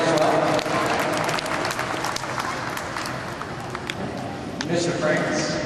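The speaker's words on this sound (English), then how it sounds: "please give him a round of applause too" An audience claps in sustained applause, a dense crackle of many hands that eases off briefly before swelling again near the end.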